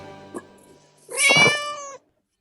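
A human voice imitates a cat with one drawn-out, close meow, preceded by a brief soft vocal sound, then silence.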